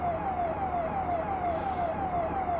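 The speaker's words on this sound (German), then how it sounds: "Sirene." A vehicle-mounted siren switched on, sounding a steady repeating falling wail in regular cycles about every third of a second, loud and close throughout with no talk.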